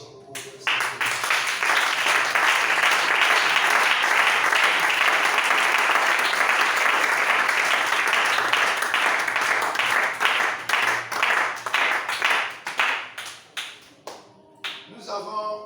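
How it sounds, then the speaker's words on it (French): A church congregation claps and cheers for about fifteen seconds, loud and dense at first, then breaking into separate rhythmic claps that fade and return toward the end. "nous allons réagir dans les acclamations pour le Seigneur"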